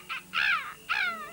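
A raven in a 1967 Soviet animated film gives three harsh caws, a short one followed by two longer drawn-out calls, close and clear with no talk over them.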